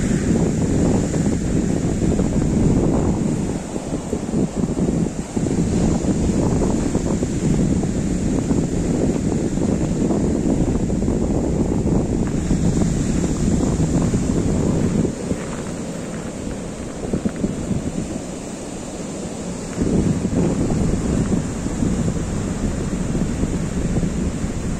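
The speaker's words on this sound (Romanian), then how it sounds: "Parcă și valurile sunt mai leneși aici." Winter sea waves wash steadily beside the Astoria pier at Eforie Nord on the Black Sea, under constant buffeting wind noise on the microphone, with surf swelling and easing over the whole stretch.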